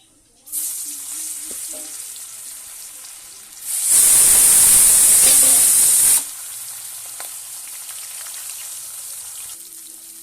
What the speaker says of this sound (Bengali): তার জন্য দিয়ে দেবো কড়াইতে তেল মাছগুলো ভাজার জন্য।